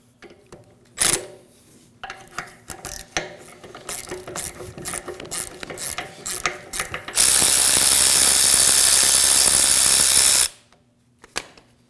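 Ratchet clicking in quick irregular bursts while T40 Torx bolts and 13mm nuts are removed from a 2009-2014 Ford F-150 power running board motor, followed by a few seconds of loud continuous power-tool whirring, close up.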